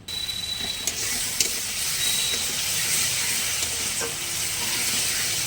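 Spice paste with turmeric and salt sizzles steadily in a pan for a fish curry, a continuous close frying hiss with a few faint scrapes of stirring and no talking.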